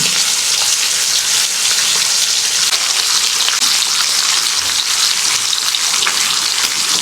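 Bacon sizzling and frying in a pan for a homemade teppanyaki-style meal, a loud, steady, dense crackle that runs continuously without pause and with no voices.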